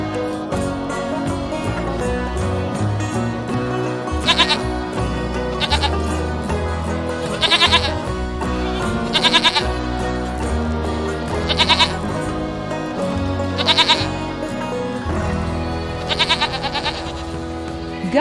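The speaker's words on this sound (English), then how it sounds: "Goat." A goat bleats in short repeated calls, roughly every two seconds, each clear and close over a steady musical backing with no talking.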